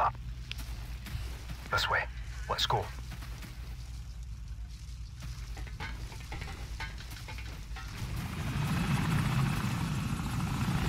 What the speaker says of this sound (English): Chopper, chopper.